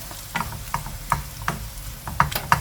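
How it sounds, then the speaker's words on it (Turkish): A spoon scrapes rhythmically through a börek filling with sweet pepper flakes and salt in a pan, a series of short, close, distinct scraping clicks at an even pace, with no talk. "güzelce karıştırıyorum"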